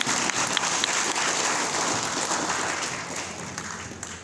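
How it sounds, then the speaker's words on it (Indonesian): An audience gives a warm round of applause welcoming a coach from Wonosobo, a steady wash of clapping that slowly tapers off toward the end. "kita sambut dengan tepuk tangan yang paling meriah coach kita dari kota Wonosobo"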